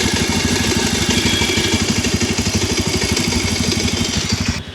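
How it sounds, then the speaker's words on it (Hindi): Bajaj Pulsar 125 motorcycle engine running close up, a loud, rapid, even chugging pulse with mechanical clatter that cuts off sharply at the end. "ये इंजन साउंड सुनिए, न्यू का है ये। अब ये ओल्ड का इंजन साउंड सुनिए।"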